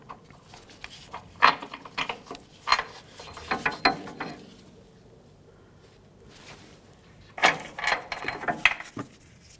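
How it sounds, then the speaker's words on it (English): A ratchet clicks in short, irregular bursts as the upper control arm mounting studs come off a 2003–2011 Mercury Grand Marquis, with separate close metallic spurts and quiet gaps between them. "Now we can start removing each of the mounting studs."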